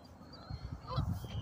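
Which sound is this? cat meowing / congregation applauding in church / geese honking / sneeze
geese honking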